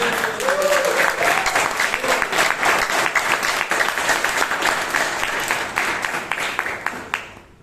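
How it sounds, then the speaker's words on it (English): An audience at a Toastmasters club meeting in Bangalore claps to welcome a new committee, loud, dense applause that carries steadily and then tapers off near the end. "let us welcome this committee with a big round of applause"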